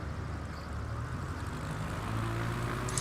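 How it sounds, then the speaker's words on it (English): Propeller airplanes in a flight simulator game drone steadily overhead over a countryside cabin in France, a continuous engine hum that swells slightly toward the end, with no talking. "Except for all these bloody airplanes."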